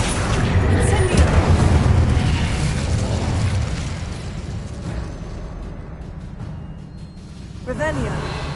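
Spell effects, including a fiery Incendio blast, from a Harry Potter video game: dense rumbling booms and crackling bursts that roll on continuously, loud and close, gradually easing off before a fresh flare near the end.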